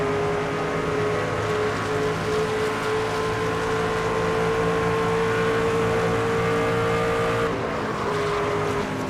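Race car engine in the NASCAR 25 video game, a loud steady drone with layered harmonic tones held throughout, dipping and shifting pitch near the end as the throttle lifts and the car brakes.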